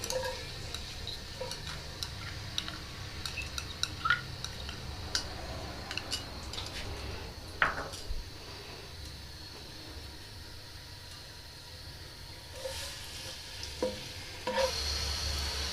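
Garlic paste frying in a few spoonfuls of oil in a pan, a faint steady sizzle with light clicks and stirring taps, quiet and close, no voices.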